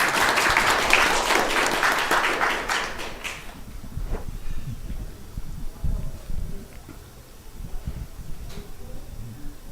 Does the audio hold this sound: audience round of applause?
yes